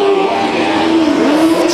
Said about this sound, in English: These cars are fast, fast, fast when they come to the clay oval of Bakersfield Speedway